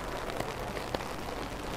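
Rain patters steadily on surfaces at Tsukiji fish market in Tokyo, a dense even hiss with a couple of brief louder drops and no talking.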